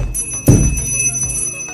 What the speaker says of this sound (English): Oh, that bell!